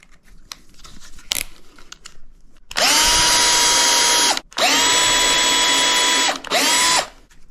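A power drill drills holes in a wall for a baby gate bracket: after some faint handling noise, three loud whining bursts of the motor follow with short pauses between.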